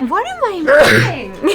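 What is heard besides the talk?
sneeze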